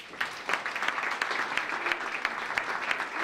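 Concert audience applauding for a performer, a dense, steady clatter of many hands clapping together at close range, continuing evenly throughout without voices.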